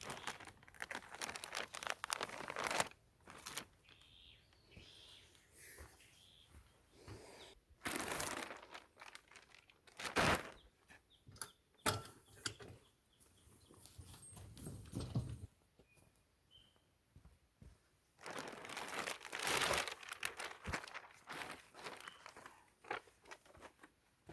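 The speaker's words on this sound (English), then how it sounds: "Going to cut open these, or one of these packages, and get it laid out for us." Plastic wrapping on a package of driveway drainage material crinkles and tears in bursts as a knife slices it open, with quieter gaps of handling in between; no one speaks.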